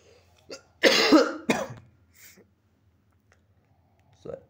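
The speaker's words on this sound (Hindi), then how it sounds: "बाकी खांसी आ रही" A person coughs hard twice in quick succession, followed by softer throat sounds and a small cough near the end, in a quiet room during a live online class.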